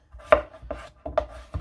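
A knife chops through starchy vegetables on a cutting board as part of a corned beef and cabbage meal, four crisp, evenly spaced thuds ringing out close and alone with no talking.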